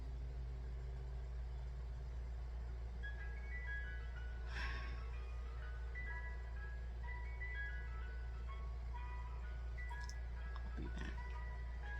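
An ice cream truck parked across the street plays its tinny melodic jingle, distant and steady over a low engine idle; a person briefly speaks.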